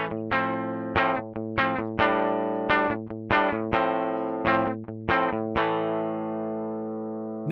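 An electric guitar plays through the Behringer XR18's built-in guitar amp simulator at default settings, a run of picked, slightly driven chords and notes ringing out close and loud, the last note decaying alone.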